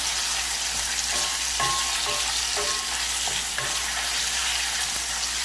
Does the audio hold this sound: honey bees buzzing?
no